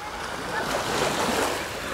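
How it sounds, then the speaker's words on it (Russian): Sea waves washing onto a shell-and-sand beach on the Sea of Azov in early morning, a steady broad rushing surf roar with wind, continuous and moderately loud. "Очень красивое Азовское море,"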